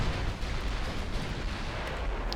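Naval gunfire from 8-inch casemate guns in the warship game Ultimate Admiral: Dreadnoughts: a continuous loud booming rumble of overlapping shots with no clear gaps.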